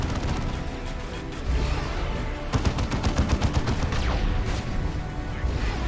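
Dense video-game battle gunfire from Dawn of War 2, with a Vindicare sniper firing turbo-penetrator rounds amid continuous rattling shots and a rapid burst of sharp cracks midway, loud and unbroken.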